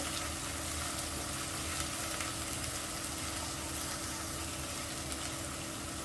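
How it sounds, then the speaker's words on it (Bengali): Onion, ginger and garlic paste sizzles and fries in a pan while being stirred, a steady close crackle that holds evenly from start to finish with no voices. "এগুলোকে আমি এখন নেড়েচেড়ে ভালোভাবে কষিয়ে নেব যতক্ষণ পর্যন্ত না পেঁয়াজ আদা রসুনের কাঁচা গন্ধটা দূর হয়"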